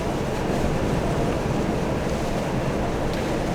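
Strong wind during a UK storm roaring steadily as broadband buffeting noise, loud and continuous throughout with no talk.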